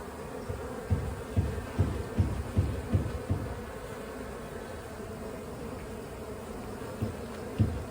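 Honey bee swarm buzzing steadily as it crowds into a hive box outdoors, a continuous close hum with a run of soft rhythmic thumps early on and a couple more near the end.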